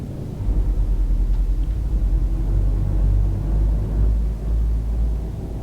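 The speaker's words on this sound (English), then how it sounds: "So I'm just allowing the truck to coast a little bit." A truck coasting in Euro Truck Simulator 2 on a countryside road, a loud, continuous low engine rumble with a slight pulsing drone, steady and close.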